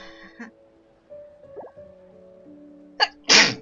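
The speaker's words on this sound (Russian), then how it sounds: "что так неожиданно чихнула. Сама не ожидала." A woman's single sharp sneeze, loud and close, preceded by a quick intake of breath, over quiet background game music.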